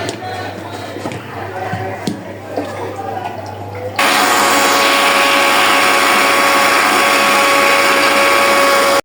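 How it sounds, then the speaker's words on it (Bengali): A kitchen blender whirs loudly and steadily as it blends a nourishing milk drink, starting abruptly after a few seconds of quieter kitchen sounds and running continuously to the end. "এখন আমি এটাকে ব্লেন্ডার করব"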